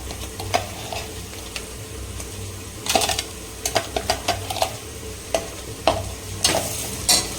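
Ground shallots stirred into frying mutton biryani masala, a spoon scraping and clinking against the pot in irregular strokes over a soft continuous sizzle, close and without talk.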